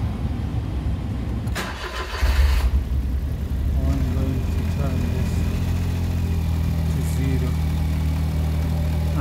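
The 1.0 L engine of a Smart Fortwo coupe W451 cranks briefly and catches, then settles into a steady, close idle hum after cooling-system work, while someone talks over it.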